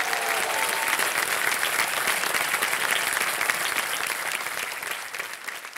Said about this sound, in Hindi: तालियां बज जाएं चैतन्य जी के लिए।